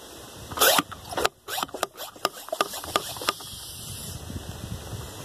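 A container lid is twisted back on tightly, giving a close, quiet run of rapid plastic clicks and scraping ratchets that slow and fade.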